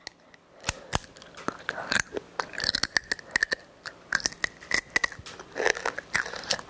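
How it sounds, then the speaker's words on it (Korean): Crisp, close crunching and biting of scorched rice (nurungji), with irregular bursts of crackling chews spread steadily across the stretch, no talking. "누룽지 조금 먹어볼게요"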